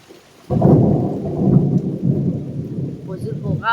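A heavy thunderstorm with lightning: a deep rumbling roll of thunder bursts in after a brief hush and keeps grumbling over steady rain, loud and enveloping, with no voices.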